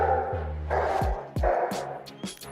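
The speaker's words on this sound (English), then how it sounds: "I don't know if you can hear my dog barking downstairs" A dog barks downstairs in a house, several sharp, muffled barks with a whine, heard from another room while no one speaks.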